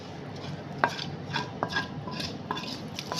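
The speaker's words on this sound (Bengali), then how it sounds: "পুরো মশলাটাই কিন্তু একবারে ডাইলে দেওয়া হলো" Fried spice mix being stirred into chicken in a pot, a utensil scraping and knocking against the metal in four or five spaced strokes over a faint low sizzle, close and moderately loud, with no talking.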